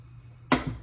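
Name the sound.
spritz of Kirkland spray over lunch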